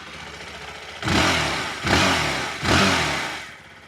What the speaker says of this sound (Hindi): आपको इंजन के साउंड पे फोकस करना है